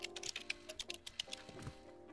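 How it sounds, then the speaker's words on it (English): A cat steps across a computer keyboard in the video game Stray, producing a quick, irregular run of soft key clacks and taps, fairly quiet and close. "I'm typing."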